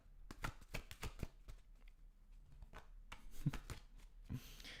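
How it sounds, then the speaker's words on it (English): Quiet, close tarot card shuffling, a soft flurry of riffles and taps in two bursts with a short pause between. "do a little more shuffles."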